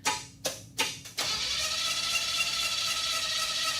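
A Chevy Tri-5 engine pulled from a junkyard cranks in three short bursts, then catches and settles into a rough, steady idle, loud and close.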